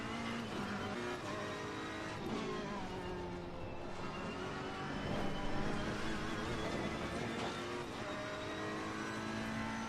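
A race car in Assetto Corsa Competizione drones loudly through the whole stretch, its engine rising and falling with gear changes as it accelerates and brakes, with occasional tire scrub, no voices.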